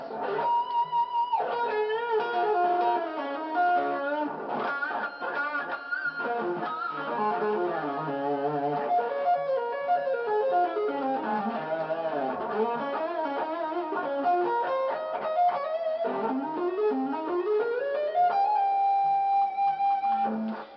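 Distorted electric guitar solo with fast melodic runs, bends and sustained high notes, loud and continuous with no talking.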